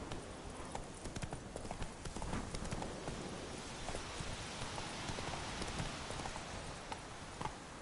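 The horse Roach gallops in The Witcher 3 video game, quick rhythmic hoofbeats under a dense hiss like rain, fairly faint and continuous throughout.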